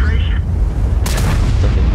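A tank gun round penetrating an enemy in World of Tanks, heard as one sharp, loud impact crack about halfway through, set over a heavy constant engine rumble with a faint tonal cue just before it.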